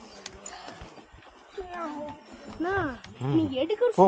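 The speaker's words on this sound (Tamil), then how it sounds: "பூனை கத்துறதான் தெரியுமா" A cat meows several times, rising and falling, close and growing louder, along the Sabarimala pilgrimage path near Karimala, with people talking around it.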